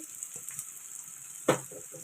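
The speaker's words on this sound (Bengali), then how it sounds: "এখানে ফুলকপি ভেজে নিচ্ছি" Cauliflower frying in hot oil with cumin powder, a soft steady sizzle with light stirring and one brief clatter of a utensil against the pan.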